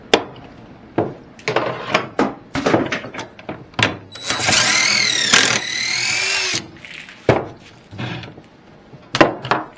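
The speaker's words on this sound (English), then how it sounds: "I have my drill bit connected to my D-wall drill here, and I'm just going to start creating pocket holes" DeWalt drill boring pocket holes in wood, a close loud whining burst of the motor lasting a couple of seconds, surrounded by sharp knocks, clicks and handling of the tool and workpiece.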